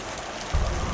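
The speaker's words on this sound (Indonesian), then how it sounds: "Hujan yang tadinya masih gerimis berangsur membesar." Heavy rain grows stronger, a dense hiss of drops that swells halfway through into a louder, fuller downpour, with no one talking.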